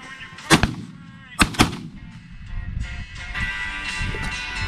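Shotgun blasts ring out at a South Texas dove hunt, two sharp loud reports close together, then another shot soon after, followed by quieter outdoor rustling and faint background noise.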